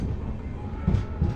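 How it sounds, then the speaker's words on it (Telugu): An Intercity train pulls away on a parallel track at Katpadi Junction, a low rumbling roll with soft clanks, heard from a passing express carriage. "చూసారా మన ఇంటర్సిటీ అటు వెళ్ళిపోతుందండి"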